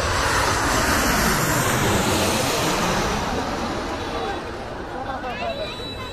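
An airplane comes in to land at Hazrat Shahjalal International Airport in Dhaka, its loud jet roar sweeping overhead and gradually easing, with road traffic noise beneath.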